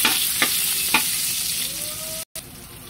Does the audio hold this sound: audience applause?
no